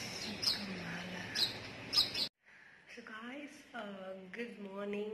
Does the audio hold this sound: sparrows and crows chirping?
yes